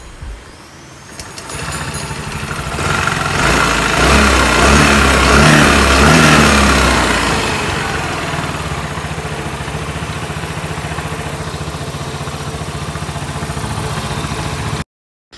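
A Yamaha Freego scooter engine starts after a starter repair, revs up loudly, then settles into a steady close idle until an abrupt cutoff.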